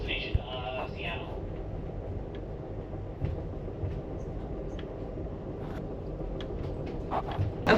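Amtrak train number 14, the northbound Coast Starlight from Los Angeles to Seattle, rumbles along the rails with a steady low roar, a few faint clicks and squeaks, and brief distant voices.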